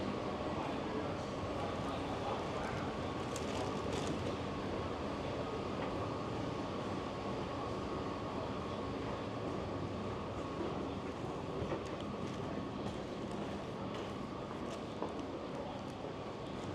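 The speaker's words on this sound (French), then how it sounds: "Allez, là, je vais prendre le métro." A Bangkok subway train rumbles along at a steady pace, a continuous roar with occasional faint clicks and squeals, fairly quiet and constant throughout.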